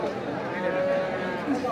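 A long, low moo from a very large cow, drawn out over background chatter and bustle at a busy livestock market in Bangladesh.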